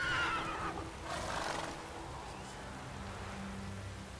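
A horse in The Witcher 3 video game lets out a whinny at the start, followed by softer snorting over a steady hiss of rain.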